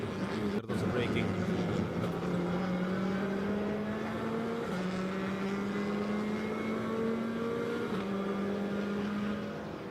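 TCR touring cars race at Termas de Río Hondo in the 2024 TCR South America round: loud, sustained engine whine that climbs through the revs and drops at each upshift, with a commentator talking over it.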